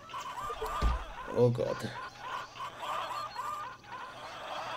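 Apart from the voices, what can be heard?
chickens clucking in the video game Zoo Tycoon 2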